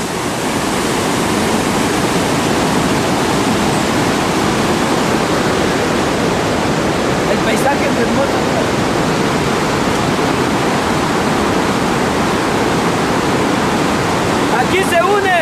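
River water rushing where the Guayas and Atenas rivers meet, a loud, steady broadband roar that holds unchanged for the full stretch, with faint brief clicks or chirps near the middle and end.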